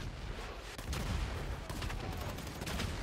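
Gunfire in GTA Online, with repeated sharp shots and short bursts in quick succession over a dense, rumbling background, fairly faint and distant, with no voices on top.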